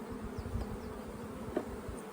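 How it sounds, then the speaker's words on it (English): Honey bees buzz steadily inside an opened hive in a bee yard, a dense, continuous low hum close by with no talking. "There's a lot of young bees walking around in here."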